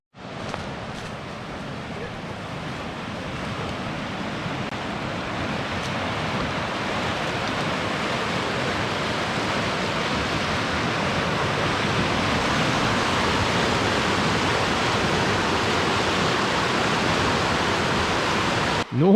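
Flooded river in Florida rushing high over submerged rocks at rapids, a steady loud broadband roar of water that holds constant and close for the whole stretch, with no voices.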